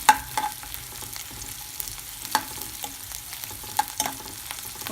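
Onion and green chilies sautéing in a pan for an Indian cabbage and potato curry, a soft steady sizzle broken by clinks and scrapes of a stirring spoon, close and alone with no talking.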